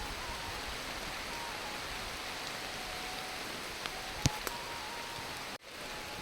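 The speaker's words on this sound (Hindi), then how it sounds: "बहुत ज़्यादा बारिश लगी" Heavy rain falls on a Himachal Pradesh village, a steady, even hiss of downpour with a few faint ticks and a brief dropout near the end.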